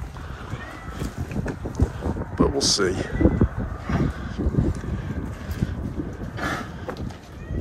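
Gusty wind buffets the microphone in uneven bursts while someone speaks briefly.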